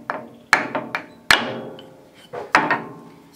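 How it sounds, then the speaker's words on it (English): A wooden mallet knocks an HNT Gordon block plane to free its blade, giving several sharp, close wooden knocks spaced irregularly, some followed by lighter secondary taps that ring and decay briefly. "Now to remove the blade for sharpening, wooden mallet again."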